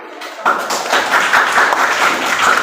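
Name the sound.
classroom applause for a student's correct answer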